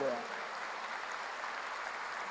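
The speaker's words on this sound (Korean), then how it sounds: "박수로 하세요." A church congregation applauds, producing a steady wash of dense clapping that sits at a moderate level after a brief trace of voice at the start.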